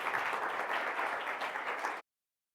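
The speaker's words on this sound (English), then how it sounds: "Round of applause for Kristen." An audience at a developer conference hands-on lab claps for the presenter Kristen: a dense burst of applause for about two seconds that cuts off abruptly.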